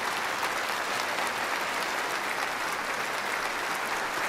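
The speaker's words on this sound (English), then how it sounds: "That applause is for you." A church congregation applauds during a Sunday worship service, with broad, steady clapping filling the space at moderate volume, continuous throughout with no speech over it.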